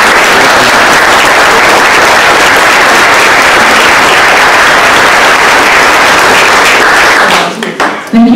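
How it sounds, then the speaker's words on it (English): Town hall audience gives a sustained round of applause for presenters at a community meeting on homelessness, loud and dense for about seven seconds before tapering off at the end. "I think we owe a round of applause for all the presenters."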